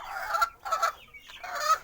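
Domestic chickens cluck in short repeated bursts close by, a few calls overlapping with no talk over them.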